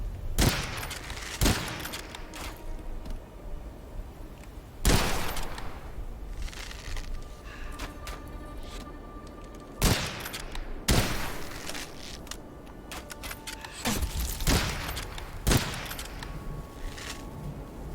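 Gunfire in the dark fantasy roguelite shooter Witchfire: sharp, loud shots crack out at irregular intervals, some single and some in quick pairs, over a steady low background of game ambience.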